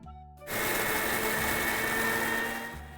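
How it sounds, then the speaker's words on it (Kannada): An electric mixer grinder starts up and runs steadily, grinding salt, urad dal, pepper and coconut for pepper rasam in a loud continuous whirring drone, then spins down at the end. "ಈಗ ಮಿಕ್ಸಿಗೆ ಹಾಕಿ ಅದು ರುಬ್ಬೇಕು"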